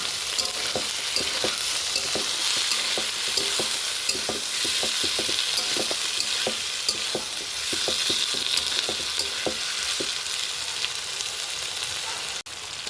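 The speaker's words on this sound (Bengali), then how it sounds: "এখন আমি এই টমেটোগুলো দিয়ে দেব, দিয়ে ভালো করে এটা কষিয়ে নেব।" Tomatoes fry in hot oil in a pan for a kabuli chickpea and potato ghugni. A constant sizzle runs under rapid, rhythmic stirring strokes that continue for about twelve seconds.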